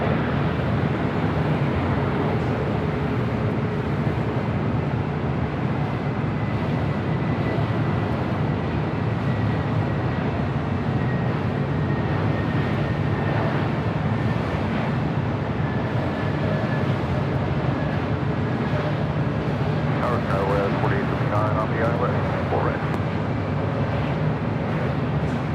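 A Cargolux cargo jet taxiing on a taxiway at Los Angeles International Airport gives a steady, continuous engine rumble with a faint whine, heard at a distance and holding level throughout without talk.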